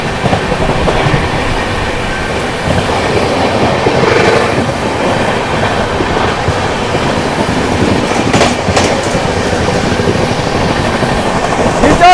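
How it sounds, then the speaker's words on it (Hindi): Magadh Express and Rajdhani Express race side by side on parallel tracks in dense fog, giving a loud, continuous close roar of rolling wheels and rhythmic clickety-clack from start to finish, with no speech. "भारत की पहली राजधानी और मगध एक्सप्रेस में हो रहा है पैरेलल रेस।"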